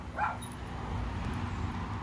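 Several Chihuahuas at home give a short burst of high yips and whimpers near the start, then stay quieter under a steady background hum.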